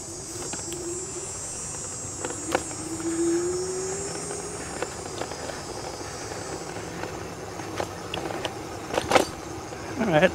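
Mihogo Mini electric bike with small tires and front suspension forks rolling down a bumpy trail, giving a steady wind-like road noise with scattered knocks and rattles from the rough surface, heard up close without talk.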